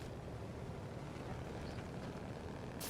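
Steady low drone of a truck engine in SnowRunner, a continuous broadband rumble held at a very quiet level throughout, with no talk on top.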